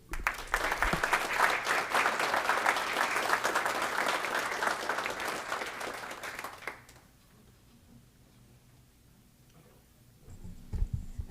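Audience applause at a St. Bernard village council meeting honoring community servicemen, steady and fairly loud for about seven seconds, then cutting off to near quiet with faint room noise and a brief stir at the end.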